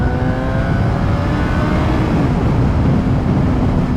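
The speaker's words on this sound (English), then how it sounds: "Third gear. Let's give it full throttle." Suzuki GSR750A 2012 motorcycle accelerating hard at full throttle in third gear on a highway, a steady loud engine drone with rising harmonic whine and heavy wind rush throughout.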